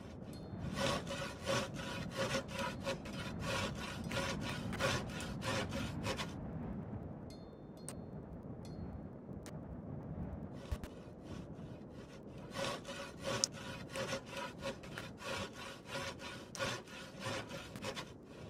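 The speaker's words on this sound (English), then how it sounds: "I'm almost finished sawing" Wooden planks being sawn by hand in the video game Wurm Online, a steady rhythmic run of rasping back-and-forth strokes that pauses briefly midway, then resumes, close and alone with no talk.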